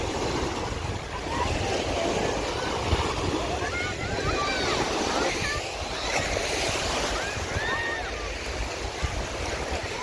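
Waves washing onto a sandy lake shore, a continuous rushing wash with wind buffeting the microphone, steady and close throughout, with faint voices mixed in.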